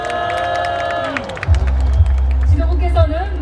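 A large outdoor crowd at a packed political rally roars and cheers, with a loud sustained swell of voices and rhythmic chanting bursts rising after a brief stretch of amplified announcer sound.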